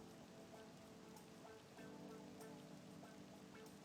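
Steady rain falling in the Persona 5 Royal video game, a faint continuous patter with scattered drops throughout.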